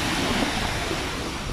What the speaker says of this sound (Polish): Tam płynie wielka fala.